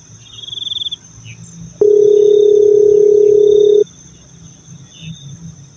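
A telephone dial tone plays steadily for about two seconds while someone places a call, framed by quiet cricket chirping and a soft background hum; no one speaks during the tone.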